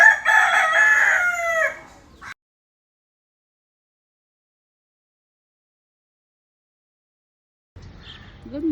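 A rooster crows once at close range in the morning, a loud drawn-out call lasting about two seconds, followed by a long silence and a faint rustle near the end.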